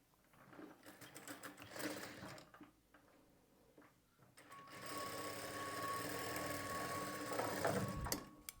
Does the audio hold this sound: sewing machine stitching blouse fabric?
yes